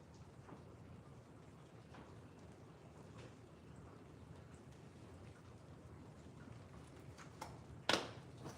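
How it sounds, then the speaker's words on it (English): Heavy rain blowing sideways outdoors, turning toward snow, makes a steady, faint, even hiss throughout, with a brief sharp knock near the end. "The rain's coming down sideways."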